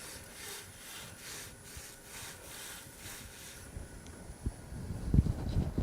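A wooden Christmas tree is burnished on a spinning lathe, giving a soft rhythmic rubbing rasp that fades, then a few louder scraping bumps and knocks toward the end.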